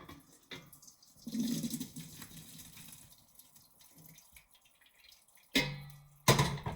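Liquid poured from a kettle at a kitchen counter, a steady splashing pour in the opening seconds, then quiet, then two short loud bursts near the end; no one speaks.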